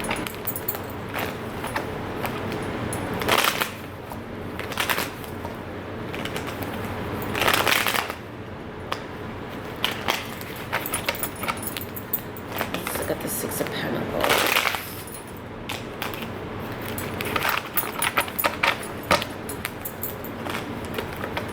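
Tarot cards are shuffled by hand in repeated riffling bursts and soft slides, close and crisp, with quiet talk in between.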